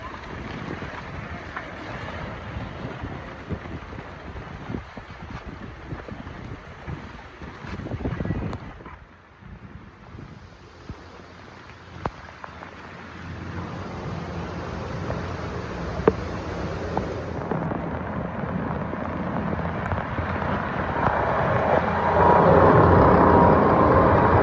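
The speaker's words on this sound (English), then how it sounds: "there's so much water running off of the cages that it's creating quite the waterfall." Heavy hurricane rain pours off animal cages at a big cat rescue, forming a steady waterfall; a loud, continuous wash of falling water and wind roars throughout, swelling louder toward the end, with no talk.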